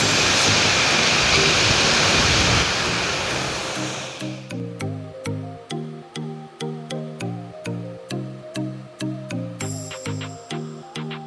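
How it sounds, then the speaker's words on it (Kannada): Rushing water at Siriya Dam, Kasaragod roars loud and steady for the first few seconds, then fades out under a regular, evenly spaced pulsing sound that repeats to the end. "ನಾನು ಮಾತಾಡಿದಷ್ಟು ಕೇಳಲಿಕ್ಕಿಲ್ಲ, ಅಂದರೆ ನೀರಿನ ಶಬ್ದ ಜಾಸ್ತಿ ಕೇಳ್ತಾ ಉಂಟು ನೋಡಿ"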